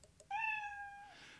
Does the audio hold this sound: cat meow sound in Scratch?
yes